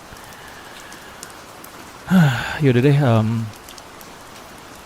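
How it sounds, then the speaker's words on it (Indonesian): Rain falls outside a tent at night, a steady soft patter and hiss throughout, with a voice speaking briefly in the middle over it. "Lagian sekarang juga hujan."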